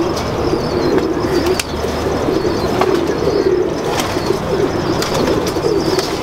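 Pigeons coo in a steady low rolling murmur, with occasional wingbeats and sharp clicks, close and continuous with no talking.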